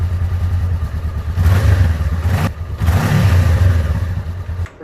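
A 2018 Honda CBR500R motorcycle with its stock muffler runs close by, rising in two strong rev bursts over a steady engine drone, with no talking.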